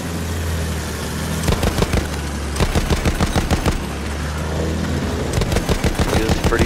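Rapid machine-gun bursts from an attack plane in Battlefield 1, loud staccato volleys over a droning aircraft engine, with several short strings of fire in quick succession.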